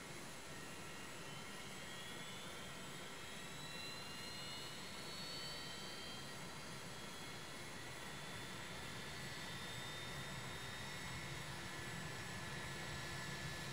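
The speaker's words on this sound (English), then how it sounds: "He's starting his engines." An airliner's jet engines in the X-Plane 11 flight simulator run as a steady, dense roar with a faint rising whine, continuous and without talk.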